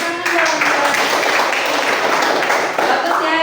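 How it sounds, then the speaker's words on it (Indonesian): Steady, dense applause from a group fills the whole stretch, loud and continuous without pause. "Tepuk tangan dong."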